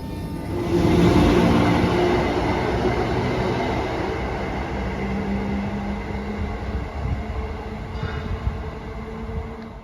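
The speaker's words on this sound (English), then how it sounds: "There is the Class 319, the Thameslink train that is just hopping up and down the West Coast Main Line." A Class 319 Thameslink electric train rolls past at Watford Junction on the West Coast Main Line, a loud, steady rumble of wheels and motors that swells early and slowly fades as it recedes.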